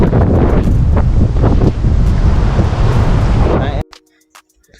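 Strong wind buffets the microphone at sea beside a remote island, a loud, continuous roar with surf and waves churning underneath, cutting off abruptly near the end.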